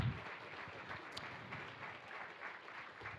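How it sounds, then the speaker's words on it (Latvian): Audience applause after a stand-up comedy show, a steady moderate patter of clapping from a small crowd in a room, continuous and fairly even throughout. "Super, aplausi Jānim."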